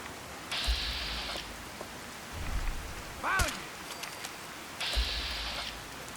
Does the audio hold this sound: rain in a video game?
yes